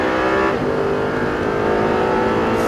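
An Audi R8 engine accelerating at full throttle on a track, a loud, steady, continuous roar with rising harmonics and no break throughout, with no talking over it.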